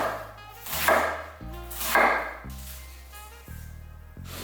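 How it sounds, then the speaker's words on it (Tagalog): A knife chops cabbage into small pieces on a cutting board while making pancit, giving a few close, dull chopping thuds over steady background music. "At ito na nga yung pagkakataon para hiwain natin ang maliliit yung repolyo"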